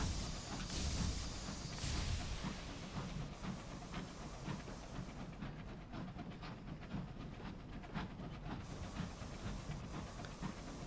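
Train rolling on rails in a video game: a continuous dense rumble with hiss and steady rhythmic clatter, fairly faint and uniform throughout, with no talking.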